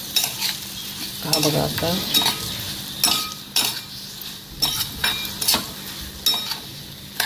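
Jaggery roasting in ghee in a hot kadhai, scraped and stirred with a spoon in repeated sharp strokes over a soft sizzle, close up, with a few brief spoken words.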